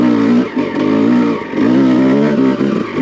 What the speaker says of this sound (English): That's second gear I'm in right now. So you can hear how I can lug it down.